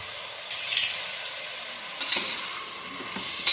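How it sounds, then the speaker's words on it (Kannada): Jackfruit pieces fry in oil and ghee for biryani. A low, faint sizzle runs throughout. Short bursts of stirring break in near the start, in the middle and again at the end. "ಎಣ್ಣೆ ತುಪ್ಪದಲ್ಲಿ ಒಂದು 5 ನಿಮಿಷ ಫ್ರೈ ಮಾಡಬೇಕು."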